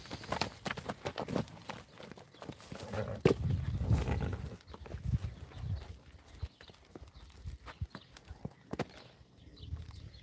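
Several horses move about in a field, irregular hoof thuds and clip-clops with shuffling and occasional snorting, close by and uneven in rhythm.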